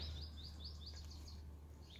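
Birds chirp outdoors in quick repeated high tweets, faint and somewhat distant over a low steady hum.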